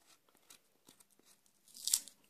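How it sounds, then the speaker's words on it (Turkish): Tape is peeled off a surface with faint crackles that build into a louder ripping tear near the end, close to the microphone and otherwise quiet. "buradaki bantların olduğu yeri söküyoruz."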